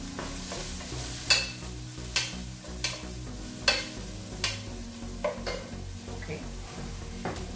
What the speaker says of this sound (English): I'm going to start frying the onion.